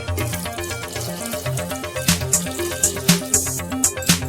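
Water pours steadily into a pot for carrot kheer, splashing and gurgling with rising, uneven bursts near the end.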